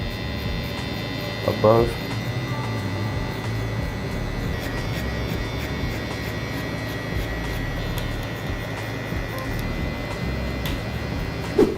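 An electric hair clipper runs at a barbershop fade haircut, giving a steady, even motor hum with a few brief louder touches, as a voice speaks briefly.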